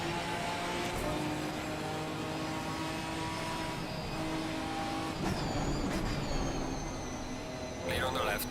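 Race car engines from Assetto Corsa Competizione, Ginetta GT4 cars racing at Donington Park, drone and whine continuously with pitch shifts as gears change, while a driver talks over the engine noise.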